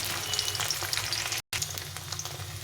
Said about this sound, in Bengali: হালকা করে ভেজে নিতে হবে।